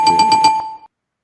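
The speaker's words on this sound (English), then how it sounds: "Ring the bell." A bright bell sound effect rings out in a few quick repeated strikes, then a single tone sustains and cuts off sharply, loud and close with nothing else behind it.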